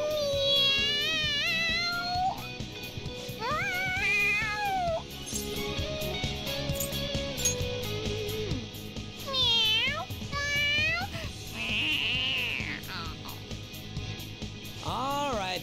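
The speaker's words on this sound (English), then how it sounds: "The cat's acting awfully excited." A cartoonish cat character meows and yowls repeatedly in Persona 5 Royal, its bright rising and falling cries layered over the game's busy music and effects.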